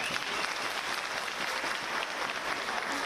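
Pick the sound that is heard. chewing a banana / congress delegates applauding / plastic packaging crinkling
congress delegates applauding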